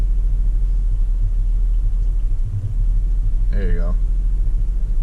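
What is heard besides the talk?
Pontiac Grand Prix GTP engine idling unevenly, revs rising and falling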